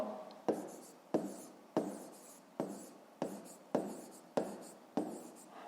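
Pen strokes writing out the answer to a fifth-grade maths exercise on paper, close and crisp, coming in a steady rhythm of about eight sharp scratching bursts, each fading quickly, with no talking.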